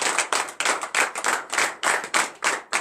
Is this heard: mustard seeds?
no